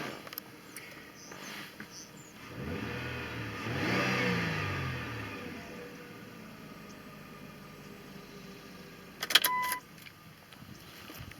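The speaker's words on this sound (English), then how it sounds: "We'll take it for a test drive around the block." A 2001 Dodge Intrepid ES engine rises in a brief rev, then settles to a low idle, followed near the end by a short burst of clicks and rattles.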